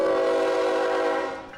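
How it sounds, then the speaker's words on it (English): A freight train with back-to-back locomotives passes while its horn blares a loud, sustained chord that fades slightly at the end, with no other sounds over it. "Here's another train with back-to-back engines."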